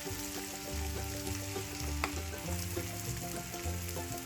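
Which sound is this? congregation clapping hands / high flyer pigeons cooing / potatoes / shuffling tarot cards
potatoes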